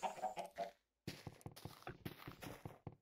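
Minecraft chickens cluck in short, close, repeated bursts with an irregular rhythm, broken by a brief silence.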